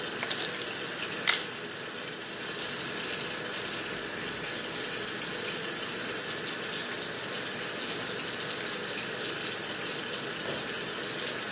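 Tap water runs steadily into a sink while food is rinsed outdoors in a makeshift cooking setup, a constant broadband gush with one brief knock near the start.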